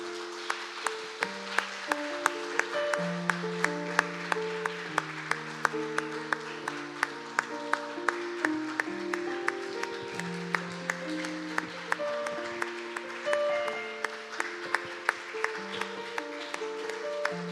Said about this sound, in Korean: 우리 나오실 때 큰 박수 부탁드립니다.